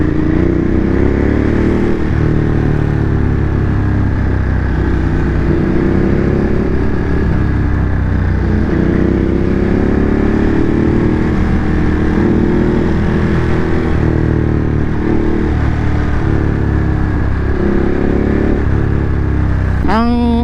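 A Ducati motorcycle engine runs during a test ride in Manila, a loud, close, continuous drone with steady rumbling and shifting pitch as the throttle varies, sustained without pause.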